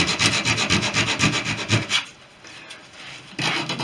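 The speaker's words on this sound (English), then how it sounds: "now I'm using 80 grit" Douglas fir is hand-sanded with 80 grit sandpaper across the grain, giving quick rhythmic rasping strokes close up, a pause, then sanding starting again.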